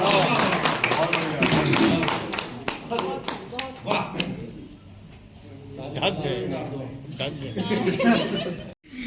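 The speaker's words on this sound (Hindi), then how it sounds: "तालियां हो जाएगी हमारे गौरव।" Audience at a mushaira poetry gathering clapping in scattered sharp claps and bursts, mixed with chuckles and laughter, while a voice keeps reciting and talking through most of it.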